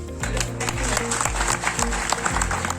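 Villagers applaud at a chief minister's public hearing in rural Haryana, a steady wash of clapping with music or voices blending underneath.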